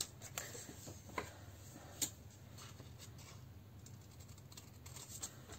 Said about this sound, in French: il faut que je coupe ce papier